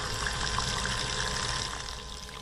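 A small, inexpensive bilge pump wired to a car battery pushes water out to drain a flooded area, giving a steady, close, even trickling pour with no talk.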